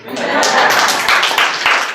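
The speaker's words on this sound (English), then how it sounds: "I deserve a hand clap, right?" An audience at an award ceremony applauds with a dense, steady wash of many hands clapping, loud and close throughout the brief span.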